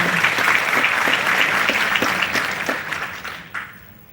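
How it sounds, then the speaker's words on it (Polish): Audience applause at a live talk, many hands clapping steadily and fairly loud, thinning and fading out near the end with a last few isolated claps. "to ja poproszę jeszcze raz brawa"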